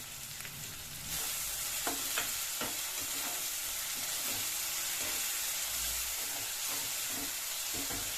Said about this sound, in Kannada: ಟೊಮೆಟೊ ಹಾಕೋದನ್ನು ಚೆನ್ನಾಗಿ ಫ್ರೈ ಮಾಡ್ತೀವಿ